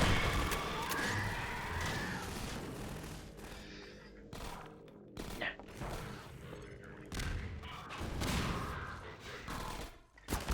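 Repeated shotgun blasts from enemy soldiers in the Half-Life 2 video game, loud heavy thumps and booms firing in quick irregular bursts over a dense layer of combat noise.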